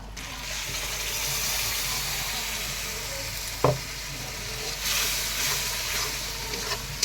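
A paste of ground cumin, ginger, garlic and green chilli fries in a pan with a steady, dense sizzle throughout, broken by one brief scrape of stirring midway.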